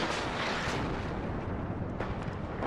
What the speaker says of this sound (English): Artillery firing away.